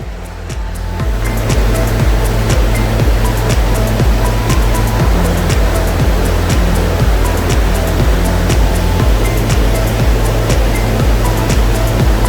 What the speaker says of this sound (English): It drops down into some rapids.